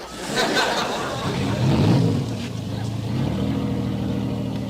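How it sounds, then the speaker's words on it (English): A boat engine cranks and catches, rising into a low, throaty rumble that settles into a steady idle, with faint voices and chuckling in the background. "Start your engine."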